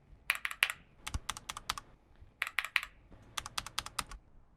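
Fingers type on a G.Skill mechanical keyboard with Cherry Red switches, producing quick clustered bursts of crisp, close keystrokes separated by short pauses. The clacks are fairly quiet, and no one speaks.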